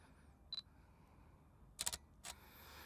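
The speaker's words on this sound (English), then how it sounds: "So just now what you heard was the full mechanical shutter." A Fujifilm GFX50S II medium-format camera firing its full mechanical shutter: a short, crisp double click, then a softer follow-up snap, quiet and close in an otherwise hushed room.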